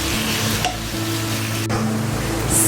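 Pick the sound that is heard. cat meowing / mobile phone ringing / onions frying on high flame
onions frying on high flame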